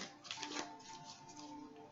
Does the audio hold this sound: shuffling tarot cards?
yes